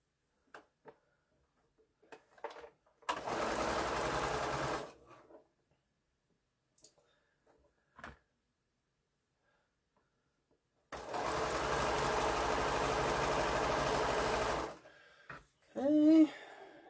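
A sewing machine chain-stitches quilt four-patch units in two steady runs of about two and five seconds, with quiet handling clicks between them and a brief voice at the end.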